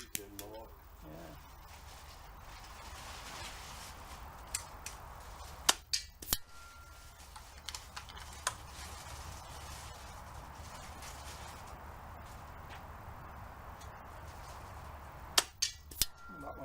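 A Hatsan Gladius .22 air rifle fires pellets on a target range after a replacement barrel fitting, giving a few sharp cracks spread across the stretch, with a short pair near the end, over steady outdoor background and quiet talk.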